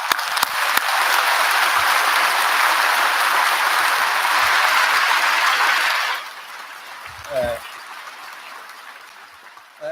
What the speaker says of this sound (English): So abandon all that and give yourselves a massive round of applause.